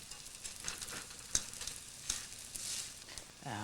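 Bread toasting in a pan with a soft, steady sizzle, a few light clicks and taps scattered through it, quiet and close with no talking.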